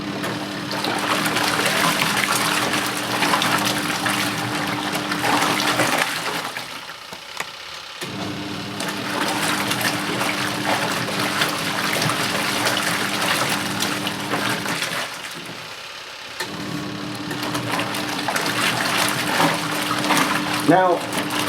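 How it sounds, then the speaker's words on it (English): A compact twin tub washing machine runs with water sloshing inside, a steady churning hum with two short pauses in the agitation, while a person talks over it. "So you can just have the machine off when you're doing this, or if you want a bit of fun, we can have the machine running."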